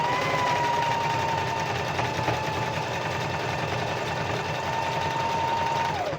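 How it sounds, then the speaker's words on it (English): A sewing machine runs continuously as it stitches fabric, a close, steady whirring drone with a rhythmic mechanical hum that holds for several seconds before slowing at the end. "I know it looks like I'm sewing crooked and then it comes out straight"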